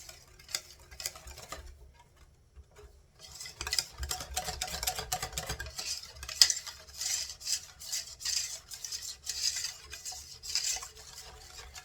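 Clafoutis batter being stirred in a bowl, a soft, fairly close scraping and swishing that starts quietly and then continues steadily, with small clicks of the utensil against the bowl and no talking.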